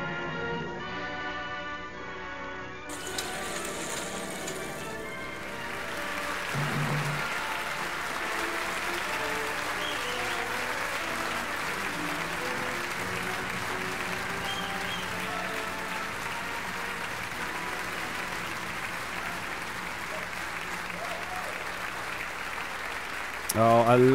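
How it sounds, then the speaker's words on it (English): Sustained applause from a theatre audience in Halifax at the close of a live staged radio-drama table read, a dense steady wash of clapping that builds after a brief musical tail and holds loud and even to the end. "a lasting applause from the crowd here in Halifax"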